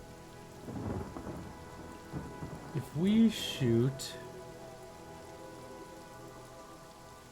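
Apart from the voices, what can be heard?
rain in the video game Divinity: Original Sin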